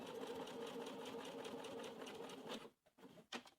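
A domestic sewing machine stitches fabric pieces together along a 1 cm seam in a steady, fast rhythmic whir that stops after a few seconds, followed by a few short clicks.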